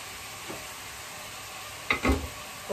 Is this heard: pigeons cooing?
no